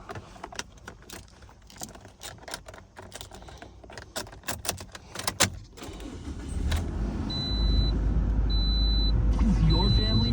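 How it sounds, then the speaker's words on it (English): A 2011 Toyota Corolla starting up after ticking and clicking sounds inside the car. A loud crank is followed by the engine settling into a steady near idle, and a chime repeats several times over it. "We're gonna go ahead and start the vehicle."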